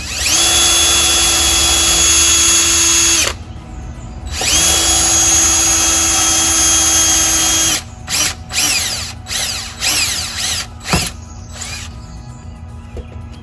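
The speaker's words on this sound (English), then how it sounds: "take a drill bit for wood and drill through your shutter" Power drill with a wood bit boring through a cedar shutter, two long loud whining runs at steady speed followed by a series of short stuttering bursts, close and with no talking.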